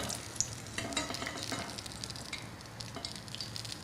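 Manti dumplings frying in oil for the Kayseri-style fried manti give a steady, soft crackling sizzle with scattered pops and light stirring sounds, close and continuous without speech.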